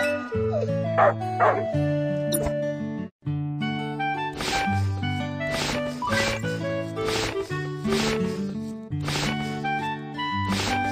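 A cartoon puppy with an injured, fractured leg whimpers and yips in repeated short bursts over bright, busy children's cartoon music, the cries close and loud.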